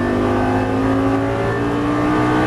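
A Lamborghini Gallardo sports car engine roars at full throttle, loud and close, its steady high-revving drone sustained without a break and no voices present.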